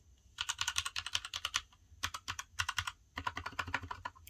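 Rapid bursts of typing on a Genesis THOR 660 mechanical keyboard with red switches, short pauses between runs; the keystrokes sound soft and muted, close to the microphone, with no one talking.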